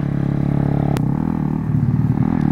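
Motorcycle engine running at close range on a race track, a loud, steady buzzing drone with a sharp click midway and a shift in engine note toward the end.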